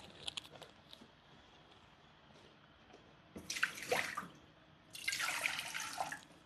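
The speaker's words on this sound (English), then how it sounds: "300 milliliters of water is up to here" Water poured into a measuring cup while preparing mille-feuille nabe, a layered hot pot, in a home kitchen: two separate splashing pours, the first about a second long and the second longer and steadier, close and fairly loud over a quiet room.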